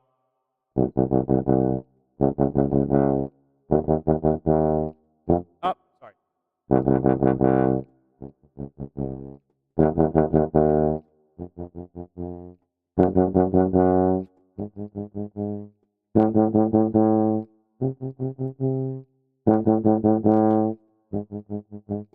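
A tuba, trombone or euphonium plays short bursts of rapid sixteenth notes, each run ending on a held quarter-note tone, loud and soft phrases alternating; a voice briefly speaks once.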